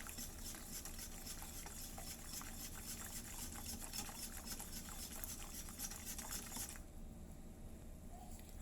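Faint, continuous liquid swishing of kutsinta batter being stirred in a bowl, a soft steady churning with a low background hum and no talk.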